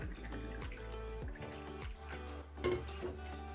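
Two cups of ordinary tap water being poured into a cup, heard as a steady close trickle and splash with small drips, continuous and alone.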